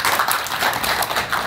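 A studio audience claps on a children's television show, a dense, steady patter of many hands that fills the whole moment without a break.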